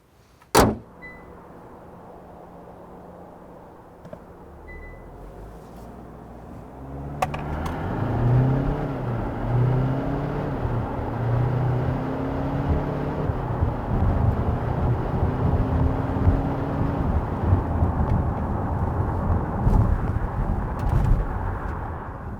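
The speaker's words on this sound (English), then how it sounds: "let me show you how fast the all-new Kia Sorento diesel can be" A Kia Sorento diesel with all-wheel drive starts quietly, then after a sharp click its engine rises into a loud, steady acceleration with rising gear-change sweeps and road and wind roar, no talking.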